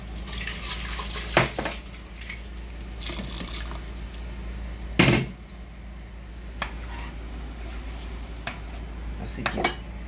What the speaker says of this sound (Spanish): Enjuagar nuestro vasito.